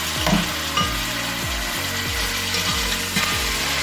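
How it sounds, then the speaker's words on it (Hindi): Mutton pieces browning in hot oil in a pot while cooking karela gosht give a steady, close sizzle with faint stirring scrapes running through, and no voices. "इस ऑयल में गोश्त अच्छे से भूनेंगे जब तक इसका कलर चेंज ना हो जाए"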